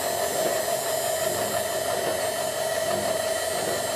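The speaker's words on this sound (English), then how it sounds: "The knee gears have always been a little bit noisy." A Bridgeport milling machine's power knee feed lowers the knee with a steady, close mechanical whir and gear hum that holds unbroken for several seconds, with no talk.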